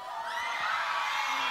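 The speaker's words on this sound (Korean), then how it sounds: "큰 박수 부탁드리겠습니다." A crowd at a Korean music show cheers and whoops for a girl group, a dense, loud wash of shouting voices held steady throughout.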